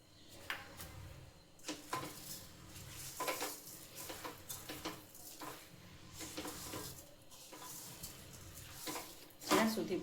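Sugar roasting in a pan for Thabdi, stirred steadily: repeated scraping strokes of a spoon against the metal pan over a soft sizzle, close and moderately loud, with a sharper clatter near the end.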